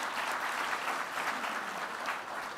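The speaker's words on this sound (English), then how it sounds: "Let's give him a big round of applause" Applause from the audience at a youth parliament politics debate, a steady, dense clapping that holds evenly through the whole stretch, with no voices over it.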